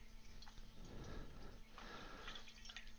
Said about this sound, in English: if I take the little flower thingy off, then it just bubbles